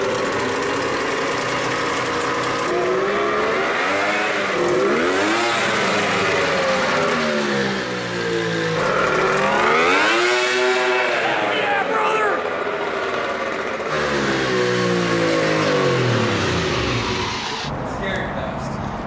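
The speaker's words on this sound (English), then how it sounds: "Let me tighten this one more time and you can do it through full throttle again" A 2-stroke 750cc golf cart engine is held near full throttle, its revs climbing and falling in repeated loud, close surges with a steady buzzing drone throughout.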